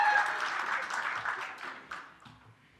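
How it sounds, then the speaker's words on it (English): An audience at a regional health meeting applauds a host, with a burst of clapping that starts strong and gradually thins out over a few seconds. "Please give a round of applause."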